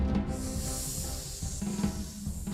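A cartoon snake hisses in a Hot Wheels City animation, a steady breathy hiss sustained over the whole stretch with a few soft bumps of background sound beneath, fairly loud and without speech.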